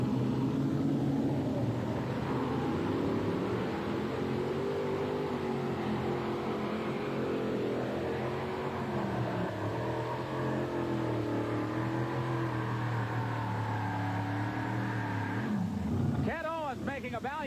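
Modified pulling tractors with three Rodex engines roar down a sandy track at an NTPA tractor pull in Atco, New Jersey, a loud, sustained engine drone that shifts in pitch, with an announcer speaking over it.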